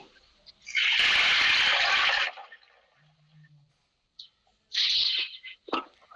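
A plastic bottle holding water, salt and a slip of paper is shaken, making a loud, close sloshing burst of about a second and a half, then a pause and two shorter sloshes.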